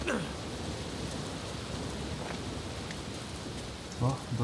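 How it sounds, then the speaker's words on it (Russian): Steady rain hisses across a Uncharted 4 game scene, a dense, even wash of falling drops with a soft thump near the end, no speech over it. "О, дождик пошел."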